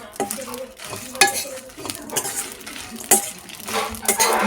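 Pepper, cinnamon, coconut, dry red chillies and cashews are roasted in a pan for chicken sukka, with repeated close spatula scrapes and metallic clatters against the pan over a soft sizzle, and no voices.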